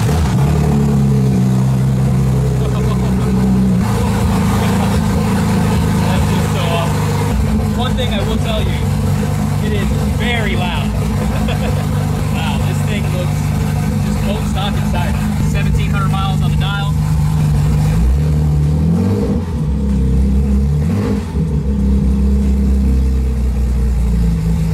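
A 2200-horsepower Nissan GT-R street car running on ethanol fires up and runs close by, a loud continuous deep engine rumble with revving swells, while people talk over it.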